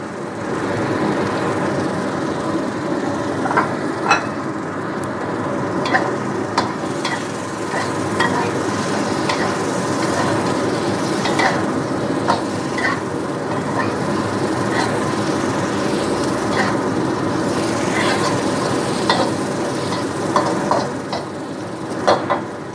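Tempe frying and being stirred in a pan with oil, a continuous crackling sizzle broken by frequent scraping and clinking stir strokes, close and steady throughout.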